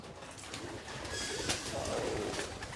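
Racing pigeons coo softly inside a breeding coop in Beijing, a steady, low murmuring chorus of several birds with no talking.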